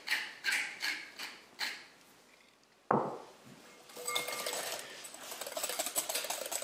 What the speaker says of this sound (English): A couple of grinds of the pepper mill.